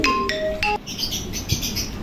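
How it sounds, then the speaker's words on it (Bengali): Pigeons at a wholesale bird seller's are heard in a few short, bright chirping calls close by, then softer scattered twittering and small clinks, with no talk. "খুব চমৎকার এগুলো কবুতর"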